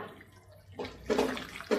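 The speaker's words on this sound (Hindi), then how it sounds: "तो इसमें मैं ऐड कर रही हूँ दूध" Milk splashes and pours into a pan of shahi paneer masala gravy in a home kitchen, coming in a few short liquid bursts after a quiet pause, with no voices.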